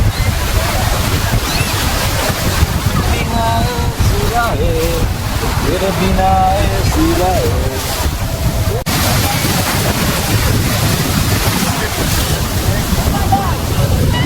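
Sea waves at Digha beach roar constantly, with a dense wash of surf and wind buffeting the microphone while voices talk over it.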